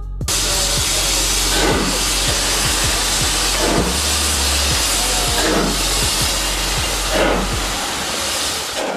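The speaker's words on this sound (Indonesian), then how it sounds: "itu adalah hempasan pembuangan uap dari mesin" Steam locomotive exhaust blasting from the engine in repeated rhythmic chuffs over a constant loud steam hiss, with regular puffs about every second and a half, close and without talk.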